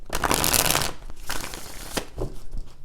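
A deck of tarot cards is riffle-shuffled up close in three quick rustling bursts with short pauses between them, and no one speaks.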